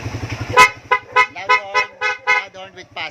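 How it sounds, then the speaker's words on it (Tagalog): A loud PIAA dual car horn blasts once, then sounds in a fast rapid series of about eight short beeps at close range. "Tapos loud horn, boss."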